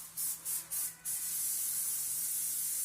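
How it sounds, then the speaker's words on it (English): Canola oil cooking spray released from an aerosol can onto a pan over a sink, in four short hissing bursts followed by one longer steady spray, close and alone. "we are going to spray our pan with some original canola oil spray"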